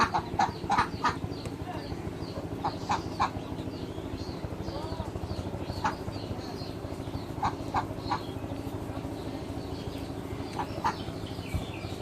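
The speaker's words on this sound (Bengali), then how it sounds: "হাঁসগুলো খাওয়ার জন্য আসছে খাবার দিলাম" Ducks coming in to feed, a flock's repeated nasal quacks in short bursts over a constant background hum, fairly close.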